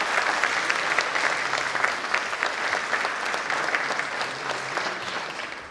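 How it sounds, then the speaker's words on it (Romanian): A theatre audience applauding after a speech introducing the director of a stage production, dense and steady clapping, sustained and fairly loud, with no talk over it. "Aplauze!"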